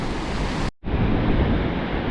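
Wind gusts outdoors at a fishing spot during a cold snap, buffeting the microphone in a rough, roaring rush, broken by a split-second dropout before the blustery noise returns.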